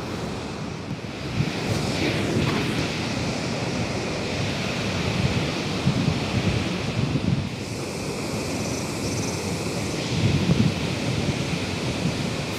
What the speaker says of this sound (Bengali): তাহলে চলো এখন তোমাদেরকে এই নুরা নং ওয়াটারফলসের কাছে নিয়ে গিয়ে দেখাই।